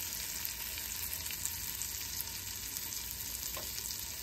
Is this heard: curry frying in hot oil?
yes